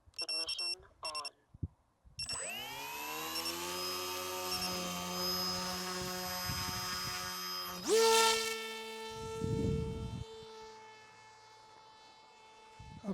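Dart XL V2 drone motors spin up after ignition: a few short beeps, then a loud rising electric whine that holds steady before shifting pitch, with brief rushes and a fading tail.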